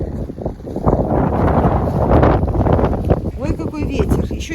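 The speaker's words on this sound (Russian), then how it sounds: "Ой, какой ветер." Strong wind buffets the microphone in loud, rumbling gusts outdoors near a hen flock, with a voice speaking briefly under the roar.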